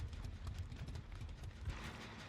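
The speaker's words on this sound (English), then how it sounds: "Getting scared by the horse." Horse hooves clip-clopping in Dead by Daylight, a faint steady galloping patter heard at a distance with low game ambience beneath.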